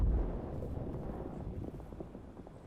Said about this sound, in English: I heard an explosion over there